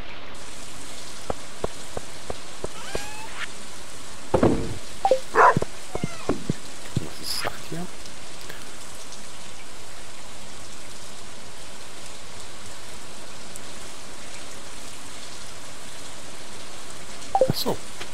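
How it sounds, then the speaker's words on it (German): Rain falling in Stardew Valley, a constant soft patter throughout with scattered game sound effects and a barking dog over it. "Ah, es regnet."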